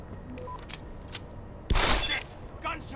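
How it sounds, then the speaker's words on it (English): Gunfire in the video game Deus Ex: Human Revolution: after quiet game ambience with faint sounds, a sudden loud burst of rapid shots erupts and rattles on for about a second, followed by a few scattered electronic tones. "Gunshots!"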